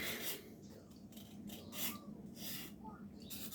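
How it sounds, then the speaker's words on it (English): A spoon scrapes homemade hair gel off the bottom of a strainer, making soft, intermittent rasping strokes that are quiet and close, with faint room noise between them. "take it out, scrape it off the bottom of the strainer here"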